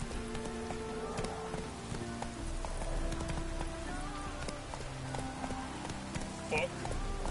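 A horse gallops in the video game The Witcher 3, with a rapid, rhythmic clip-clop of hooves running continuously under layered game ambience and tonal music.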